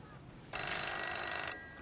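A home telephone ringing in a drama scene, one sustained bright electronic ring burst of about a second that starts abruptly and cuts off, heard alone and fairly close.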